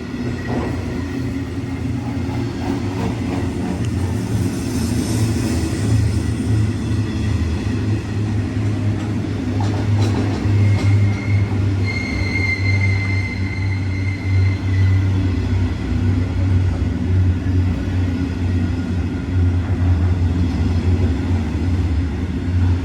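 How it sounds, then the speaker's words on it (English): A freight train hauled by class 66 locomotive 66175 on a Scunthorpe to Burton working rumbles past steadily and close, with a continuous low roar and wheel noise for the whole stretch, no talking. "So we do have a freight train as promised."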